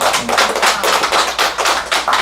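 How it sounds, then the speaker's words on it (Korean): A room full of students applauds the graduates of a Buddhist Seon study course, steady, dense clapping with a rhythmic pulse from many hands at once, close and fairly loud throughout. "우리 수고 많으셨으니까 박수 한번 드립시다."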